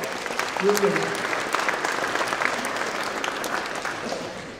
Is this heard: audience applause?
yes